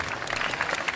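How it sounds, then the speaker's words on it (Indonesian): Audience at an Indonesian religious gathering clapping for an honored guest, a brief dense patter of applause at moderate distance. "Tepuk tangan untuk beliau."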